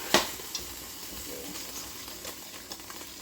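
Ingredients are whisked in a hot pan, a quiet continuous hiss and sizzle with faint scraping strokes and a couple of small clicks, heard alone without talk.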